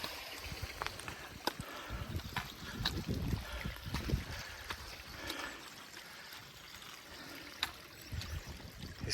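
Water trickles and gurgles through a drainage channel, or sough, near an old mine ruin outdoors, a continuous low, burbling flow with scattered small splashes and drips throughout.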